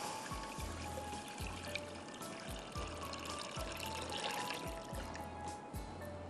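Water poured into a soup pot along with stock cubes while cooking Szechuan soup, a quiet continuous splashing stream with faint regular low thumps underneath and no talking.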